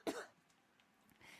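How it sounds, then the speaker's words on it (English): A single short cough, close and quiet, followed by near silence. "it's gonna make me cough"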